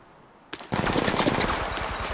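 Automatic gunfire in Apex Legends starts abruptly and rattles on in a rapid, loud, close burst of shots that continues to the end.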